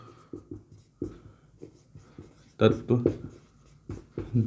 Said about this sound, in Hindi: इधर मैं लिख देता हूँ